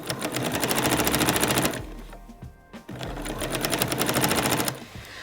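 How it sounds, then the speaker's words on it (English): A sewing machine hems the bottom of a pair of shorts, its rapid even needle chatter stitching in two close bursts split by a short pause. "Now all I have to do is fold this up and hem the bottom"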